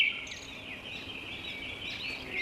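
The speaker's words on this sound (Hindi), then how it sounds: "अरे ये चिड़िया कहाँ से आ गई?" A small bird chirps and twitters in a forest where wood is being cut, a thin high call repeating steadily through a soft background hiss, with no talking.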